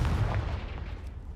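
A Confringo spell blast in Hogwarts Legacy lands as a single deep boom right at the start, then a rumbling tail that fades over about a second.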